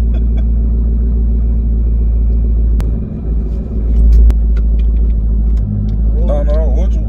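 A Jeep Trackhawk's engine rumbles low and steady while driving, with one swelling surge, as people talk inside the cabin throughout.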